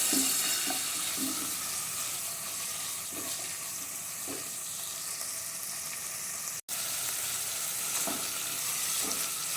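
Bone-in minced meat keema frying in a pan with a little water cooking off, giving a steady close sizzle with faint stirring clinks and no voices.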